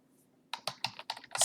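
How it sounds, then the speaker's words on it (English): Keys tapped on a computer keyboard while entering a command, about six crisp clicks in quick uneven succession after a short quiet pause, near and fairly soft. "So let's type two-way scatter"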